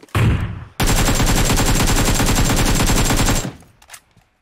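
Sustained automatic-weapon fire in the mobile battle-royale game PUBG Mobile, a brief burst followed by a loud, continuous rapid rattle of shots lasting nearly three seconds before cutting off, with no talk over it.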